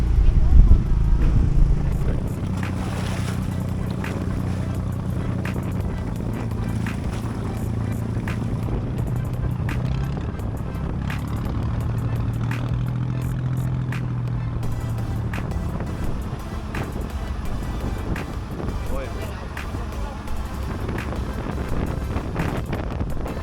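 A small boat carries passengers out toward a lighthouse at Ke Ga, with a steady motor drone and heavy wind buffeting close to the microphone, beginning with a louder rumble before settling.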